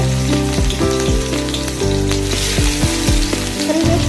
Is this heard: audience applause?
no